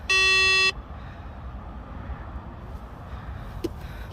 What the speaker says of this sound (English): That beep is starting to get a little annoying